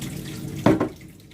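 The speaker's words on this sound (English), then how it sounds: "I'm going to drain the excess water." Excess water is drained from raw chicken into a kitchen sink, a brief close splash and gush of water over a low background hum, with no voices.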